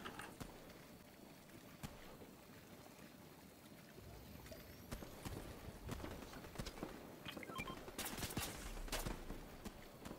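Distant gunfire in Fortnite crackles in scattered bursts and single shots over a quiet background, the exchange growing busier toward the end.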